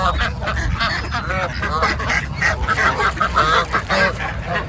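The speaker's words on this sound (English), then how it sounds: "let's look at the white duck." White ducks quack and honk close by in a busy, overlapping chorus of repeated calls that runs throughout, steady and loud.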